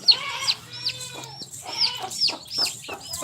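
Six young chicks cheeping, high thin peeps repeated in quick irregular bursts, close and clear with no talk.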